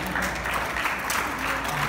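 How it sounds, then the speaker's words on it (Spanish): A group at a community music therapy session applauds a woman, a brief, fairly close burst of mixed clapping that stays even throughout. "Un aplauso a la señora."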